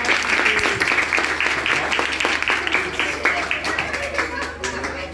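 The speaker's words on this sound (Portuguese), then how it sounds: "Pode bater palmas aí, pessoal." A small group of people claps at a home birthday surprise for a husband, steady overlapping claps close by, with faint voices mixed in.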